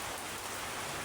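Steady rain falls outside a village shop, a dense, even hiss with no voices over it.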